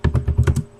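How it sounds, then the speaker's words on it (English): Quick, close clicks of fingers typing on a computer keyboard, about six keystrokes in a brief burst. "I'm typing as I do this"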